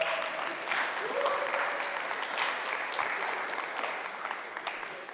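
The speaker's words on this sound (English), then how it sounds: "I would love to have a round of applause for my team for making this happen." Audience applause fills a hall at the Breakpoint 2023 Solana conference, a dense, sustained patter of many hands clapping that slowly thins toward the end.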